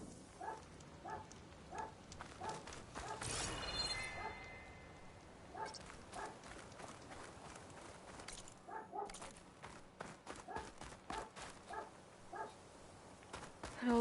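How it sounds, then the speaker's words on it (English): A dog in the game Horizon Forbidden West barks repeatedly in a steady rhythm, with moderately close yaps spaced about a second apart through most of the stretch, at low overall level. "Dog's so noisy."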